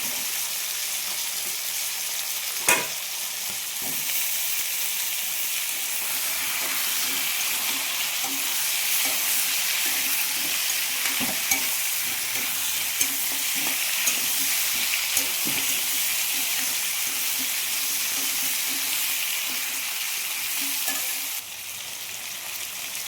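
Ripe pumpkin sizzles and fries steadily in a hot pan for a long stretch, with a few soft clicks and stirring taps along the way.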